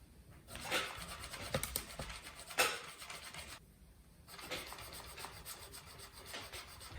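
A cotton cloth dampened with cleaning product rubs back and forth over computer keyboard keys, producing close, steady scrubbing strokes with a brief pause in the middle.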